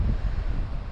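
Strong wind on a taiga lake in winter buffets the microphone with a loud, continuous low roar.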